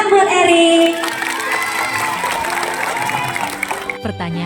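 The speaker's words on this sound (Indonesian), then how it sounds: "Tepuk tangan buat Erik" Schoolchildren at a school orientation event applaud and cheer a classmate, a loud crowd of clapping and shouting that swells at first and then carries on steadily with no one speaking over it.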